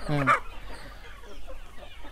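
A loud, close cluck opens, followed by softer scattered clucking and faint rustling from a few native country hens on a Tamil Nadu chicken farm.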